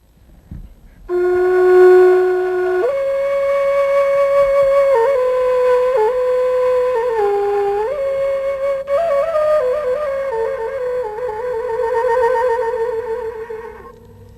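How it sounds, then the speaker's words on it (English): A reedy Guatemalan wind instrument made from carrizo cane plays a slow, steady melody of held breathy notes stepping between pitches, close and fairly loud, with no voices. "we have here an instrument made from a cane called carrizo"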